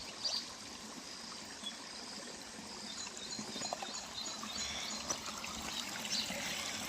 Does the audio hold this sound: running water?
yes